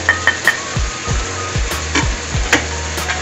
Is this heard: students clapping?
no